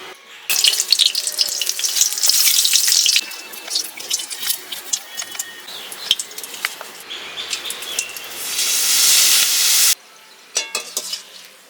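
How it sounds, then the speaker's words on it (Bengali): Eggplant slices and papad frying in a pan of hot oil, a loud, steady crackling hiss with sharp spitting bursts that briefly drops away near the end. "আমি এখন বেগুন আর পাঁপড়টা ভেজে নেব"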